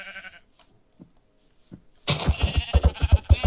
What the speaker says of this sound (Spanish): Vale, ovejas. Vamos a por lana un poco.